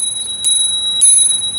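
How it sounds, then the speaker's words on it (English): A Spur Cycle bicycle bell rings twice with bright metallic pings, each tone lingering and shimmering after the strike, loud and close with nothing else around. "I have my Spur Cycle bell."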